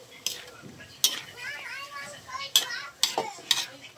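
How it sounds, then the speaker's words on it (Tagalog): A spoon stirs menudo in a metal pot, with sharp clinks against the rim about five times in a few seconds over a faint simmer, and soft voices talk underneath. "Haluin ko muna."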